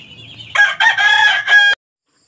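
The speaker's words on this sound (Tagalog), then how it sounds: "Yan ay isang uri ng mga manok." A rooster crows once, loud and close, in a long, ringing cock-a-doodle-doo that stops abruptly.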